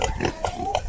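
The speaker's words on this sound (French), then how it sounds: "ça c'est le dernier cochon" A pig grunting repeatedly at close range, short rhythmic low snorts and grunts over a steady farmyard background.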